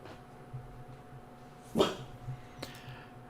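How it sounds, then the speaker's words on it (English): A pet dog gives a single sharp bark close by indoors, followed by a fainter second yip, against quiet room hum. "You really barking at me again, girl?"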